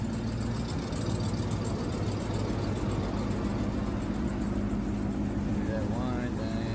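A Dodge TRX or Trackhawk engine runs with a steady mechanical drone and whine, audible under a voice speaking nearby.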